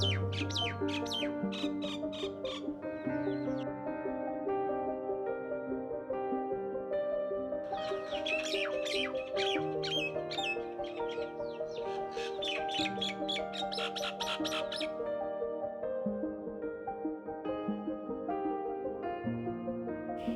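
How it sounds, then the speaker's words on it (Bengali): A flock of migratory birds on a lake at Gajoldoba near the Teesta river keeps up a dense, continuous chorus of squawking calls, many birds overlapping at once and sounding fairly near. "শীতের সময় প্রচুর পরিযায়ী পাখির দল এই লেকে ভিড় করে"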